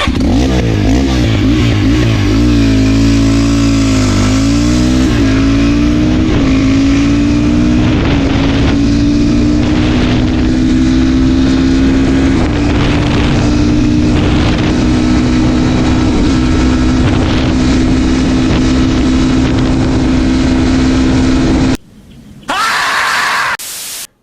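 A motorcycle with a tuned, ported 172FMM engine accelerates hard on a top-speed run, its loud engine tone climbing and then holding high through heavy wind rush, before cutting abruptly near the end.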